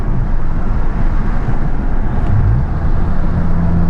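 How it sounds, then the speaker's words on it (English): Loud, close engine drone from a tuned car pulling hard in a roll race, a steady roar with a rising tone partway through, no talking. "That car sounds amazing, dude."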